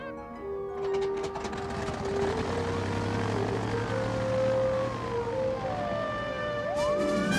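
A military airplane roars close and loud with a steady propeller drone, tones sliding up and down as it moves, over low engine rumble for several seconds.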